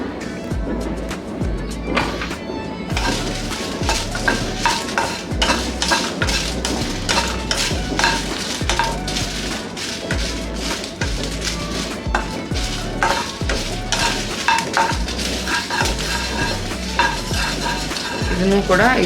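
Byadagi chillies frying in a pan for sesame rice, with constant brisk stirring: rapid metallic scrapes and clicks of a utensil against the pan over a steady sizzle, close and fairly loud.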